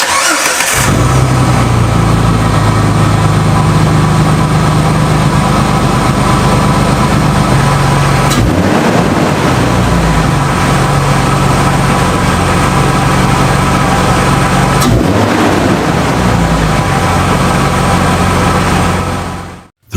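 A Jeep TJ fitted with a Rough Country cold air intake fires up and settles into a steady, loud idle, with a couple of brief throttle blips along the way and no talk, then cuts off at the end.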